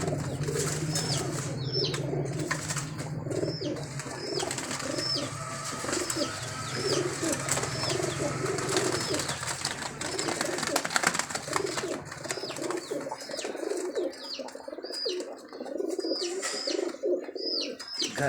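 Domestic pigeons coo steadily at a shop where a fancier keeps breeding pairs, with occasional wing flaps and soft chirps, fairly close and continuous throughout, under faint background noise.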